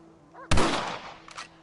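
A single sharp rifle shot cracks close and loud in Red Dead Redemption, decaying into a rolling echo, preceded by a faint short tone and followed by a couple of quieter clicks.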